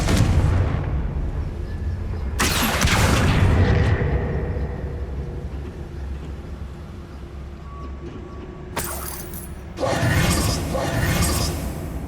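Explosive blasts from the Confringo fire spell in the Hogwarts Legacy video game, two loud booming bursts a few seconds apart with rumbling decay between them.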